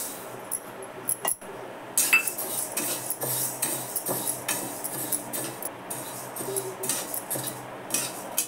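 Moong dal is dry-roasted and stirred in a large kadhai, with a spoon scraping and clinking against the metal pan in quick, uneven strokes close by. No one speaks.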